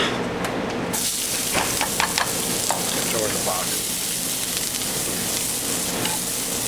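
Shallots dropped into a hot, lightly oiled pan sizzle and fry steadily, a close, continuous crackling hiss with faint stirring scrapes, no one talking.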